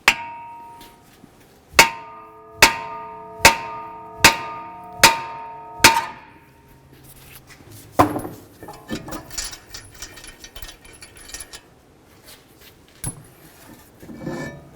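A hammer strikes a brake rotor on a Nissan Pathfinder hub six times in a steady series of loud, ringing metallic clangs, followed by scattered knocks, scrapes and rattles as the rotor loosens.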